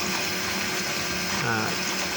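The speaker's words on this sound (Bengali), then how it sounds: "এই বারো ভোল্টের এয়ার পাম্পের সাহায্যে" A 12-volt air pump bubbling air through octane for gas cooking gives a steady mechanical hum with continuous gurgling and bubbling, close and even.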